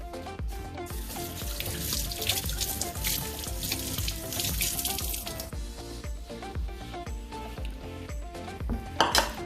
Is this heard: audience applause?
no